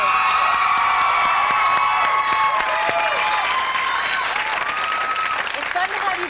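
A lively television studio audience in Hollywood claps and cheers loudly in a continuous dense wash, with whoops rising over the steady applause.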